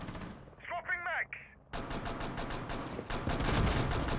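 Rapid automatic gunfire in a shooter video game, first a short burst, then after a brief quiet stretch with a small sound effect, a long sustained volley of loud, closely spaced shots.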